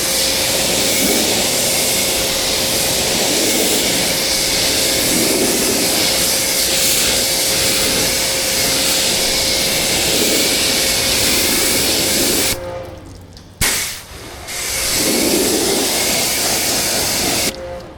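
Water spraying while rinsing a car, a loud close hiss with a steady tone, briefly cut off twice near the end before resuming.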